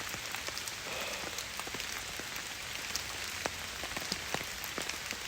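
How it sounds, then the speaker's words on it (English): Steady rain patters on a tent pitched in the woods, a dense continuous hiss broken by scattered nearby drops that land with individual taps, all fairly quiet with no voices. "the raindrops sound like footsteps"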